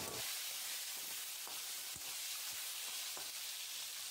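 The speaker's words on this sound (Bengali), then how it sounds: "তেল ভালো করে গরম করে লো ফ্লেমে ভালো করে নেড়ে চেড়ে ভেজে নিতে" Singi fish frying in hot oil over a low flame, a dense, continuous sizzle with scattered sharp pops and spits throughout, close and fairly steady.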